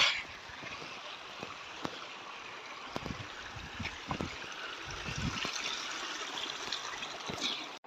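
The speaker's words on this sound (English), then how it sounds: "Yeah, it's clean flowing water." Clean mountain stream on Mount Kenya flowing steadily, a continuous close trickling and rushing wash of water with small splashy bursts throughout.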